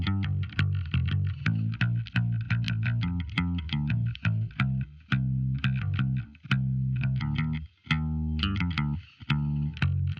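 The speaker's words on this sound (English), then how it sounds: "But anyway, the bass sounds like this." A synth bass from a stock plugin's Classic Comp preset plays a busy line of punchy, plucky notes. It sounds close and fairly loud with a couple of short gaps, and no one speaks over it.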